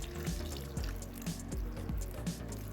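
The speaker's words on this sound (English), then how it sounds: "So we just add a little water to it." Water poured from a small stream into a cooking pot of okra for stew, a steady trickling splash with faint drips and clinks throughout.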